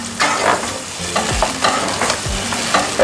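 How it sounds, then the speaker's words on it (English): Okra stew with tomato puree stirred in a sizzling pan for Egyptian bamya, a spoon scraping in repeated strokes over a steady hiss of frying. "I'm just going to stir this."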